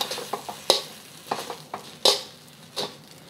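Singapore noodles are stirred in a hot pan, with a steady soft sizzle broken by a series of sharp utensil scrapes and clacks against the pan, some louder than others, close and without speech.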